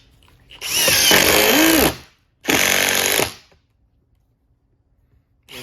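Milwaukee and Ridgid impact drivers drive 3-inch screws into wood in two loud, close bursts of rapid hammering clatter, each lasting about a second, separated by a brief pause, with another burst starting at the end.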